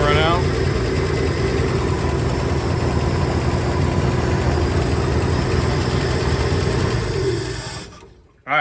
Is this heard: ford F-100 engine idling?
yes